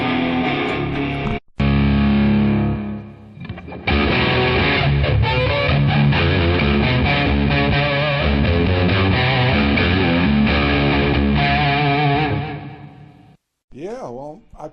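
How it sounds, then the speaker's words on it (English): An electric guitar played through a Tech 21 Fly Rig 5 for distortion rings out loud and heavily saturated in sustained chords and riffs. Brief gaps break the playing, and there is a short voice at the end. "when you kick in the fly rig, you can get that insane distortion."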